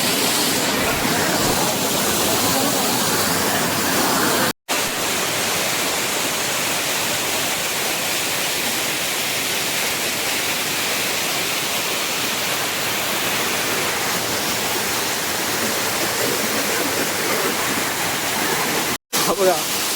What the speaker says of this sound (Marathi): हा आहे आपला धबधबा